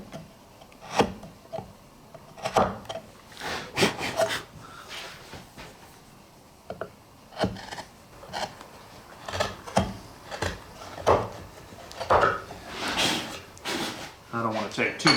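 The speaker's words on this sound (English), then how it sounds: "when I work the chisel, when I'm paring, I'm slicing it as opposed to just pushing it straight down" A chisel pares wood for a tapered sliding dovetail with repeated short slicing and rasping strokes. Someone talks over and between the cuts.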